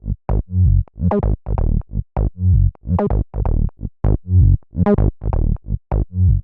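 A loud synth bass riff repeats its bouncy pattern twice, each note starting with a crisp, snappy attack and cutting off quickly.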